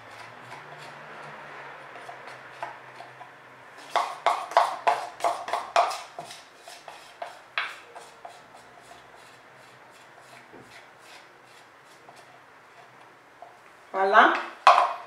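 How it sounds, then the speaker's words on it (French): Macerated oil is scraped out of a container with repeated firm strokes, a rhythmic run of close rasping scrapes that builds in the middle and trails off, followed by a louder rattle near the end. "je vais bien racler, hein, parce que c'est une huile très importante"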